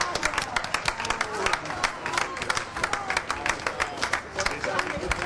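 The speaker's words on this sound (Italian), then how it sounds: "Abbracci e applausi in una festa andata avanti tutta la notte" Hands clapping and a crowd cheering at a victory celebration for a new mayor in Piazza dei Signori, Treviso, in dense, continuous applause with crowd chatter mixed in.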